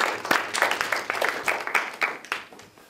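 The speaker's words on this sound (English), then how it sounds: "Give her a round of applause." An audience at a stage hypnosis demonstration claps for a volunteer; a moderate round of distinct claps runs for the full few seconds, then tapers slightly near the end.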